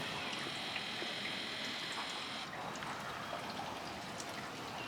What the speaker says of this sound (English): As you can hear the rain coming down the gutters